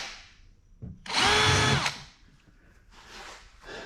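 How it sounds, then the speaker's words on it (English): A short burst of a power drill spinning up and boring a quarter-inch mounting hole for a gas tank for under a second, followed by quieter rustling and handling noise. "I've lined up the mounting holes for the tank itself, and so I'll go ahead and drill those."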